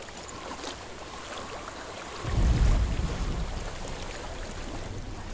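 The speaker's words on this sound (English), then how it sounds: "I hear water." Flowing stream water in the video game Hellblade: Senua's Sacrifice, a steady rushing wash with wind-like noise and a brief louder surge midway, no talk.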